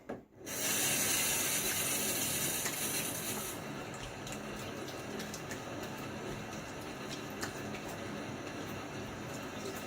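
A razor rinsed under a running tap, steady broadband water rushing close and fairly loud after a brief start, continuing with little change and no talking.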